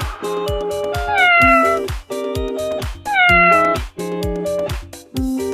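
A cat meowing in a children's alphabet rhyme, repeated drawn-out meows set over a bouncy musical backing with a regular beat, loud and close.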